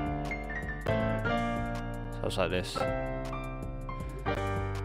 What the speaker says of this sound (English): I just pitched up the piano an octave